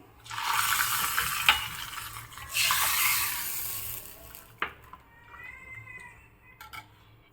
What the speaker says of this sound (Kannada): ಈಗ ಇದಕ್ಕೆ ತುಪ್ಪ ಜೀರಿಗೆ ಮತ್ತು ಸಾಸಿವೆ ಒಂದು ಮೆಣಸು ಇಂಗು ಹಾಕಿರೋ ಒಗ್ಗರಣೆ ಹಾಕ್ತಾ ಇದ್ದೀನಿ